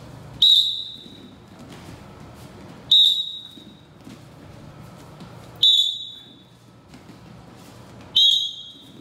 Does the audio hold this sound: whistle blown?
yes